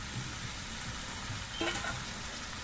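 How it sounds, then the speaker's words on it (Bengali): Fried shrimp sauté in a pan, with a constant soft sizzle and a brief stirring scrape near the middle. The sound is moderately close and has no talk over it. "নুন দিয়ে কিছুক্ষণ কষিয়ে নিয়ে এর মধ্যে আমি ভেজে রাখা চিংড়ি মাছগুলো দিয়ে দিচ্ছি"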